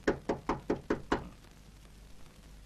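Six firm knocks on a door come in quick, even succession, close and clear, and then the room falls quiet.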